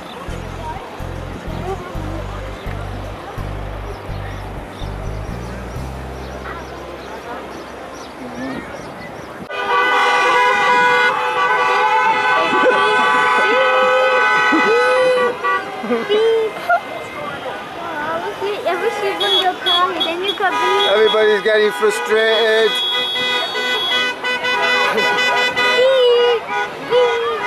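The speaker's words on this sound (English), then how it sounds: "So everybody's beeping to get out" Car horns honk repeatedly and loudly in an evening traffic jam, overlapping long blasts and shorter beeps from several vehicles over engine noise, with a voice speaking near the start.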